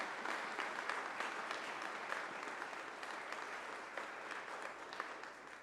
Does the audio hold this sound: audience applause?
yes